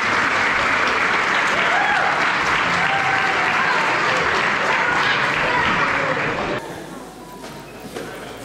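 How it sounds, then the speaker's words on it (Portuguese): Loud, dense applause from a crowd at a Bailinho carnival dance performance in Santa Bárbara, Azores, sustained for about six seconds before dropping away to quieter room noise. "Uma salva de palmas para eles."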